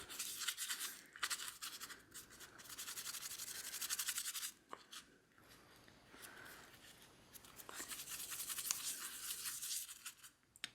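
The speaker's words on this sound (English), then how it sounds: "swirl the brush around, really working the soap into your brush" Continuous wet bristle scrubbing and swirling as a paintbrush used for water-soluble oil paint is worked with soap, a steady rubbing texture with brief pauses, close up and moderately loud.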